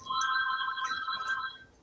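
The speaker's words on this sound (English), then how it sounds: "The phone's ringing." A telephone ringing indoors, a steady electronic ring tone holding for about a second and a half before cutting off, moderately loud with no talk over it.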